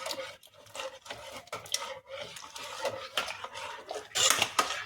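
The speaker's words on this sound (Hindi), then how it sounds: "इसको तेज आंच करके चलाते ही रहिएगा।" Firni being stirred continuously in a pan over high heat, a steady scraping and clinking of a spoon against the metal pan, close and fairly loud, with no talking.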